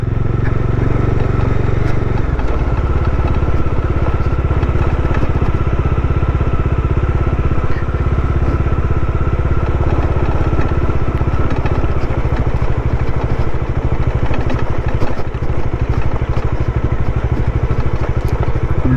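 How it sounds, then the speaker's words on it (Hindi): A Bajaj Dominar motorcycle ridden off-road along a river crossing between Chintpurni and Jwalaji, its engine droning loud and close throughout with rattling and clatter over uneven ground. "डोमिनार की ऑफ रोड राइड भी हमें टेस्ट कर लिया आज"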